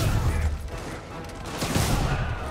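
Rapid bursts of gunfire in Marvel's Spider-Man on PS4 crackle and boom in quick succession, with a brief dip before another volley of shots.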